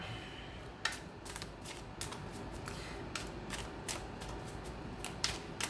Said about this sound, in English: Cards flopping.